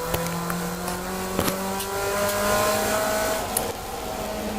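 A race car pulls out of the pit lane at Brands Hatch under the speed limit, its engine droning steadily with harmonic tones that shift as it moves, plus a few sharp clicks and distant track noise.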